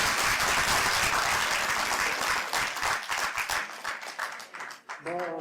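Audience applause for a teacher being honoured at a college mushaira and book release event in Kishtwar, a dense crowd of clapping that gradually thins toward the end as a voice begins speaking.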